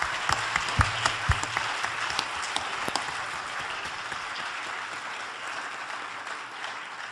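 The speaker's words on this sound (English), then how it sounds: "join me in thanking our two speakers with your robust applause" Audience applause thanking two speakers at the end of a panel on the U.S. and the Children's Convention, a sustained dense clapping from a crowd that holds steady for the whole stretch, with a few sharper claps near the start.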